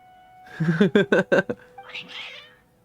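Cats in the Genshin Impact video game, a rapid series of four or five loud agitated meows followed by a drawn-out, breathier yowl, close and clear with no talking.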